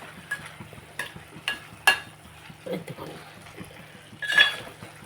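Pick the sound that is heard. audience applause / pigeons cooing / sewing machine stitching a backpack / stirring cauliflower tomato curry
stirring cauliflower tomato curry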